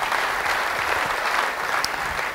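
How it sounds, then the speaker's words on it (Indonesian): A church congregation breaks into steady, full applause during an Easter (Passover/Good Friday) sermon, dense clapping sustained throughout at even loudness with no talk over it. "Yang percaya beri tepuk tangan bagi dia."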